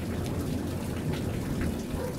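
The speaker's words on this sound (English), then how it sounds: "The thunder." Steady rain shower over an open area with a low rumble of thunder mixed into the constant patter, broad and continuous throughout, no voices.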